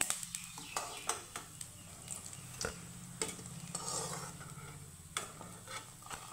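Vegetarian koftas frying in hot oil and turning reddish, a steady sizzle broken by repeated sharp clicks and scrapes of a utensil against the pan, close and moderately loud with no talking.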